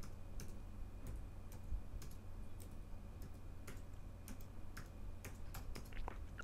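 Key clicks from someone typing a German job title into a search field on a computer keyboard, a quiet uneven run of close taps over a steady low hum, with no voices.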